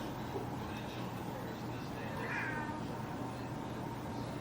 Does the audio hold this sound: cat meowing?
yes